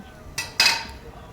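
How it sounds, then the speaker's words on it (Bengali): A spoon knocks and scrapes twice against a pan while cumin powder is mixed into a mashed eggplant bharta, a brief pair of metallic clinks, the second louder, close by. "ভালোভাবে একটু জিরে গুঁড়ো দিয়ে আরও কিছুক্ষণ নাড়াচাড়া করে নেব"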